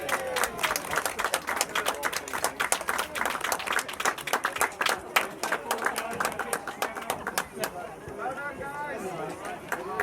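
A crowd at a youth football club awards night applauds a player's award with dense, loud clapping, and chatter and voices rise under it toward the end.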